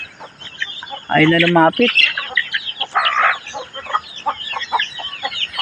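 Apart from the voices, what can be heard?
chickens clucking while being fed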